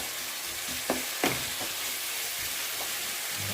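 Chicken pieces browning in a pan give a steady close sizzle and frying hiss, with a few brief stirring scrapes and clatters, no talking.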